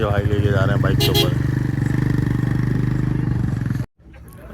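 A motorcycle engine idles and revs with a loud, throbbing chug while carrying a goat at a livestock market, then stops abruptly; someone talks over it.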